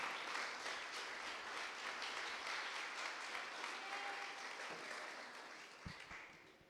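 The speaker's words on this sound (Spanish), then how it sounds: "Si le dan un aplauso, déselo al Señor en esta mañana." A church congregation applauds during a morning service, continuous clapping that holds steady and then gradually thins out, with a couple of knocks near the end.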